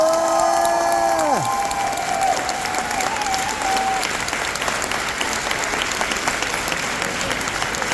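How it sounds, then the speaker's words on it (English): A crowd applauds steadily and loudly, with some cheering mixed in and a whistle-like tone fading early on. "let's give them another round of applause"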